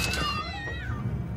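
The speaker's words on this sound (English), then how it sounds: "Those are totally the cat sounds" Several cats meow in sharp, rising and falling cries, stacked close together over a steady low background hum, with no talk.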